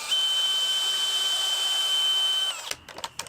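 Power driver sinking 2.5-inch screws into wood pieces while building a canning rack shelf, a loud steady high whine for about two and a half seconds that stops abruptly, followed by a few clattering knocks.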